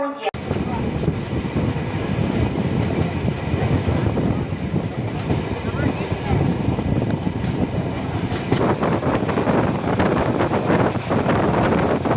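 The Pallavan Express passenger train from Chennai Egmore to Karaikudi rumbles along steadily with rattling, clattering wheels and rushing wind noise, loud and continuous from start to end.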